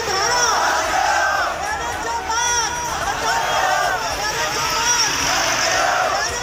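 Protesting students chant slogans in a loud crowd, voices rising and falling in rhythmic repeated waves amid general crowd noise.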